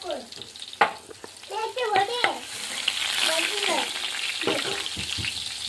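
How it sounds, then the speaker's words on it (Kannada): Garlic sizzles and fries in hot oil in a village kitchen, a steady crackling hiss that swells after a few brief stirring knocks and sharp clinks, with faint background voices. "ನೋಡ್ರಿ ಎಣ್ಣೆ ಗರಂ ಮಾಡತ್ತದ. ಇದಕ್ಕೆ ಇವಾಗ ಬೆಳ್ಳುಳ್ಳಿ ಹಾಕೋತೀನಿ."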